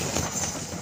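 The Serayu passenger train on the Purwokerto–Jakarta route passes through a curve in hilly country, producing a steady, loud rumble with faint rhythmic rail clatter and a high squeal above.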